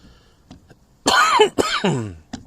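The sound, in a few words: coughing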